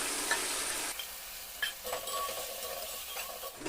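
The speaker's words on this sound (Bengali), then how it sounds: "তো মশলাটাকে আমি 2 মিনিটের মতো নেড়ে চেড়ে একটু কষিয়ে নেব।" Spice paste with fried onions stirred in a pan for a shrimp dish, a soft sizzling hiss with intermittent scraping stirs, fairly quiet and close, no talking.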